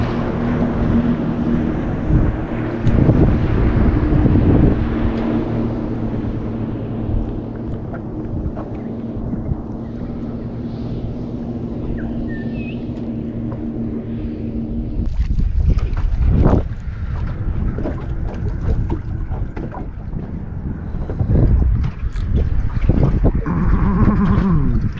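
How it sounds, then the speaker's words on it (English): Wind of about 11 knots buffets a small fishing boat near the Jumpinpin, a loud, constant rushing roar against the microphone, with gustier surges in the second half. "Quite hard with this wind. It's really painful. It's blowing about 11 knots."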